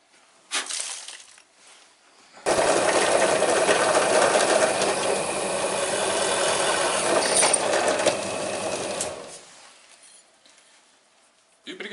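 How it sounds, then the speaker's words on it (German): Dry drilling of holes into a tail light mount during a rear conversion on a Daelim VT motorcycle, a steady loud grinding whir lasting about seven seconds, preceded and followed by quieter handling noises. "Übrigens, ich habe das jetzt trocken gebohrt."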